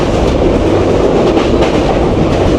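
Steady rumble and rattle inside a moving Madhumati Express passenger train, running between Rajshahi and Faridpur, heard continuously from a seat with closed windows, with faint clickety-clack from the wheels and no talk.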